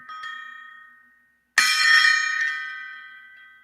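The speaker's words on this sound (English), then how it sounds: "Now, I have to ring my gong to get the show started." A small metal gong struck once after a fading earlier ring, giving a bright, shimmering tone that rings out and slowly decays in a quiet room.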